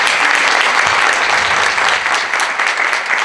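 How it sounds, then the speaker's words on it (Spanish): Dense, steady applause from a church congregation at a sermon on forgiveness and healing, a continuous wash of clapping at full strength for a few seconds without letting up. "quiero que le demos un aplauso también"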